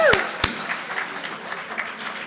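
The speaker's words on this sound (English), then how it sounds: "Give him a round of applause" Short burst of applause from an awards-celebration audience honoring an awardee, with a couple of sharp claps up front, a whooping voice, then scattered clapping fading under background murmur.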